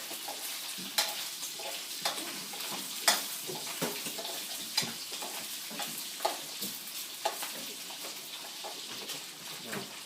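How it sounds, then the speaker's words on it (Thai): Thai home cooking: egg yolk being pounded in a mortar, a steady run of dull knocks and scraping strokes with sharper thuds every second or so, close and moderately loud with no talk. "เอาไข่แดงใส่แล้วตำเลยจ้ะ"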